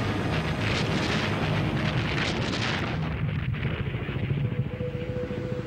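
A battleship's heavy guns fire across the Persian Gulf, a loud sustained booming roar with rolling echoes that slowly thin out, heard alone without voices.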